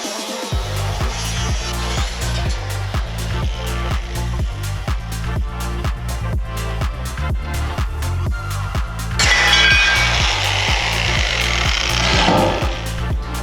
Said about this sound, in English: Let's get some metal and cut some stuff away, and then we'll be done with repairs.